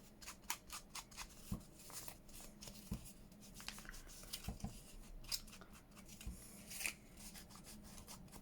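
Scissors trim paper for a junk journal insert with a quick series of crisp snips and slicing rustles, close and quiet, spaced unevenly across the stretch.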